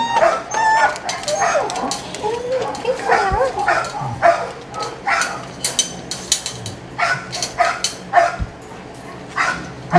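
Young beagles bark in short repeated bursts mixed with whimpers and yips, close and fairly loud, with some people's voices heard now and then.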